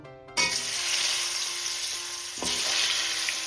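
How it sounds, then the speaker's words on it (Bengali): Potatoes dropped into hot oil, a sudden loud sizzle that holds steady and close, with a second surge as more pieces go in. "এবার আমি আলুটা ভেজে নেব।"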